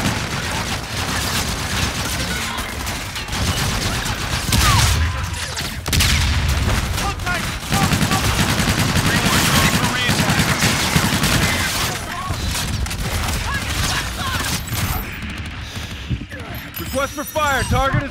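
Dense bursts of gunfire and heavy booms from a gun run in Call of Duty: Infinite Warfare pour out almost nonstop and loud, mixed with radio chatter from the game's voices.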